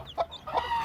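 A hen in a cage with her newly hatched chicks gives a few soft, close clucks, two short murmuring calls separated by a brief pause.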